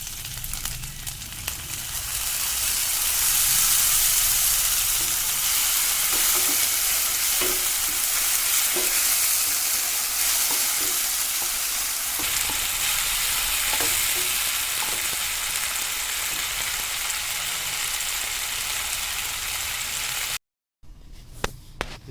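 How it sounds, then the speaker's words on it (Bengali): Onion and ginger frying with tomato paste in a pan, stirred now and then: a loud, steady sizzle runs throughout with soft scraping of the spoon, and no voices. "পেঁয়াজ আর আদাটা কালার চেঞ্জ হয়ে গেছে, ফ্রাই হয়ে গেছে। আমি এবার এর মধ্যে দিয়ে দেবো টমেটো পেস্টটা।"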